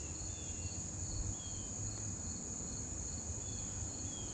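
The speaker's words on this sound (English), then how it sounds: "There's bugs all around me." Crickets and other insects chirp and buzz beside a tiny creek, a dense, steady high-pitched drone that holds constant throughout with no voices.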